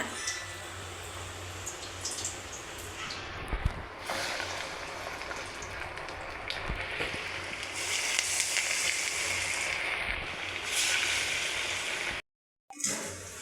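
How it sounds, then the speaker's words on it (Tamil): Banana flower vada frying in hot oil, giving a steady, loud sizzling hiss that continues throughout, with brief dips and a short cutout near the end. "அதில் இந்த வடையை போட்டு எடுத்துக்கலாம் வடை இப்போ வந்து போட்டுக்கலாம் எண்ணெயில் போடுறப்ப கவனமாக போடுங்க"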